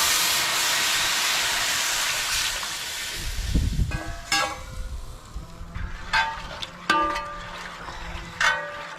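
Water poured into sizzling curry masala in a pan for a Kerala-style snakehead fish curry makes a loud, steamy hiss for several seconds, then settles into softer crackling sizzles with a few sharp clinks.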